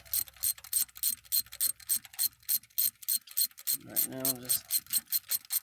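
A ratchet wrench clicks in a steady, rapid rhythm during a head gasket change, loud and close, with a grinding stretch midway and someone speaking briefly over it.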